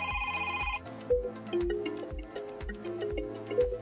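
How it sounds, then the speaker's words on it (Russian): Incoming-call ringtone played through the infotainment system of a 2023 Tank 300: a bright melodic electronic tune over a steady pulsing beat, clear and alone for about four seconds. "Мелодия входящего звонка"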